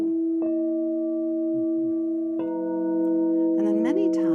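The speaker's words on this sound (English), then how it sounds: "This is a bowl that is a Divine Mother bowl." A Divine Mother singing bowl rings with sustained, steady overtones, struck again partway through so the tone swells and layers, then a wavering, rising-falling shimmer near the end; clear and close with no talking.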